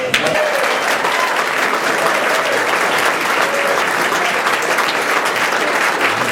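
A large audience at a 100th-anniversary celebration gives the standing staff a sustained, dense round of applause. The steady, loud clapping fills the room, with faint voices mixed in underneath.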